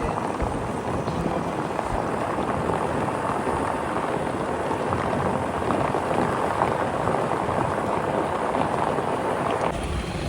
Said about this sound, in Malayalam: wow super boat service